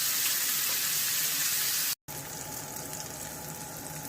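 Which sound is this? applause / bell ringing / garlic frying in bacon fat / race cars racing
garlic frying in bacon fat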